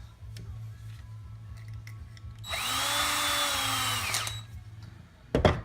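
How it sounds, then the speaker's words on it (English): A power drill boring a pilot hole while mounting motors on a FliteTest H quadcopter frame, one steady whirring burst of about a second and a half, close and clear, with quiet handling noises before and a clunk after. "Need to drill a pilot hole."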